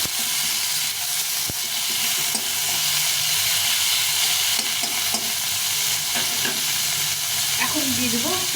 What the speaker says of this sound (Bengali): টমেটোটাকে একটু ভালো করে ভেজে নেবো